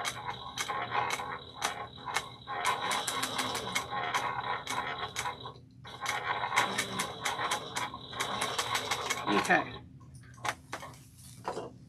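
Sewing machine stitching backpack straps: long runs of rapid, steady mechanical needle clatter, pausing briefly in between, close and clear with no talking.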